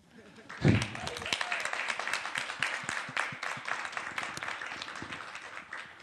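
Audience applause greets a panel of five women filmmakers from the Arctic at a forum, a dense run of clapping that swells after a brief pause and keeps up steadily, with some voices mixed in beneath.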